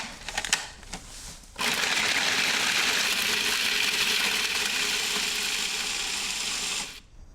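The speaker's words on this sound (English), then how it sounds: "If you have a food processor, it's a really easy way to do this" A food processor grates Parmesan cheese in a steady, loud, dense whirring grind lasting several seconds, followed by a brief stop. A few clatters and rattles come before the motor starts.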